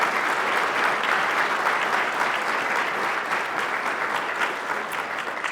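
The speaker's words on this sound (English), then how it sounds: "can I ask you to give a round of applause for the Crime Solvers Board?" Sustained applause from an audience at a regional crime-line awards ceremony honoring police officers in Virginia Beach, a steady dense clapping that stays loud and even for the whole stretch without talk.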